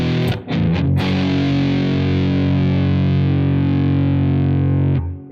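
A high-gain Mesa Boogie style amp tone with 6L6 tubes rings out as a loud distorted electric guitar: a few quick picked hits, then one sustained saturated chord that holds before cutting off.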